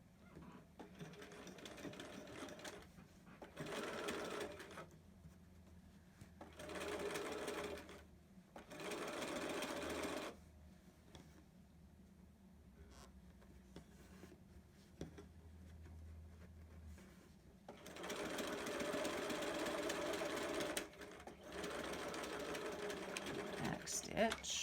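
A sewing machine edge stitches a zipper pouch in several close, steady runs with short pauses between them, the last run longest, while a voice talks quietly at times.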